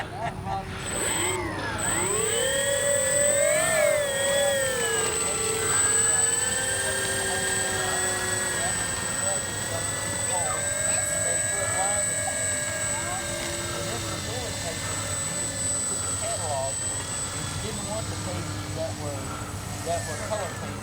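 Electric motors on a Flightline P-38 RC model airplane run at a field with a loud, steady whine whose pitch rises and falls, while people talk nearby.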